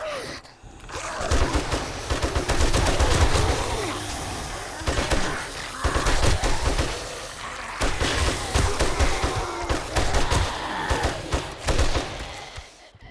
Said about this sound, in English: So let me get the machine gun.